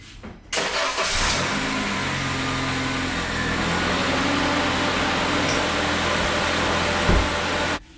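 A Honda Civic with the AC on runs steadily as the condenser fan spins, a loud continuous whirring hum over the idling engine, starting abruptly and cutting off at the end.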